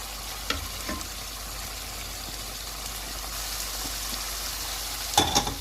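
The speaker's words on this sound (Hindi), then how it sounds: "अब इसमें हम शिमला मिर्च और सब्ज़ प्याज को डाल देते हैं।" Capsicum and onion fry in a pan with a soft, steady sizzle, punctuated by a few light stirring clatters and a brief louder scrape near the end.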